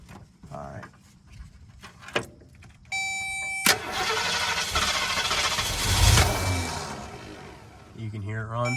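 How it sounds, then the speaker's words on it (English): A 1961 Ford shortbed 4x4 pickup truck engine starts after starting fluid: a short starter beep-like whir, then the engine catches and roars into a loud, rough run that swells before easing, with brief voice at the end. "All right, I'll start it up for you, real quickie."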